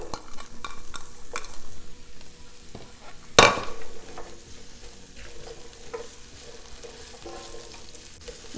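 Chopped onion sizzles in a tablespoon of olive oil in a pan, a steady close frying hiss with a loud burst as the onion hits the hot oil, followed by stirring scrapes.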